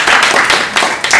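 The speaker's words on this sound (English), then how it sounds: "let's welcome them with a big round of applause" Audience applause greets speakers at a business talk on human capital toolkits, a steady wash of clapping from a room of people, fairly loud and continuous for a brief moment.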